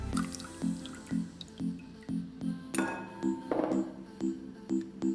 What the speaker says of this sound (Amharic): የሰራነውን የሎሚ ጭማቂ ላዩ ላይ አጥልለን እንጨምረዋለን